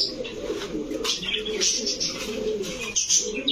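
Pigeons coo steadily in low, rolling calls, several Pakistani Giribaz and racer pigeons close by at a pigeon shop, with faint chirps and a quiet voice in the background.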